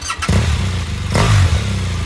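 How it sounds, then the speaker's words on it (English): Motorcycle engine held back before a launch, revving loud and close with a deep steady drone that climbs in pitch as the throttle rises, then surges again. "So I got my feet forward, I'm holding the bike back, raise the RPM."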